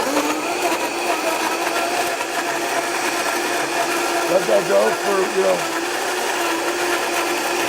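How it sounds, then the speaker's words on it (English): A blender whirs steadily as it purées basil with corn syrup for a cocktail syrup, a continuous mechanical drone running throughout with a brief spoken phrase over it. "it's the basil. We put it in our blender."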